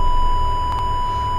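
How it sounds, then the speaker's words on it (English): A steady high electronic tone drones throughout, with two quick heart-monitor blips near the middle in the horror game Fibrillation, fairly loud. "It's the sound of like one of those heart blip machines"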